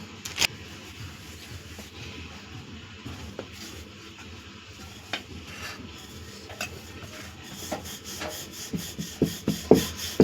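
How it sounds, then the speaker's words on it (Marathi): Thin maida rumali roti dough, dusted with flour, worked with a wooden rolling pin on a board: soft repeated rubbing and rolling strokes that grow more rhythmic and louder toward the end. "आणि जेवढी पातळ लाटता येईल तेवढी तुम्ही लाटून घ्यायची."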